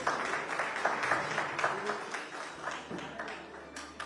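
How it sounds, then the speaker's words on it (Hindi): An audience applauds to welcome Atishi onstage at an interview event, clapping rising and falling steadily for several seconds under a faint murmur of voices. "तो जोरदार तालियों के साथ आतिशी जी का स्वागत कीजिए आप लोग।"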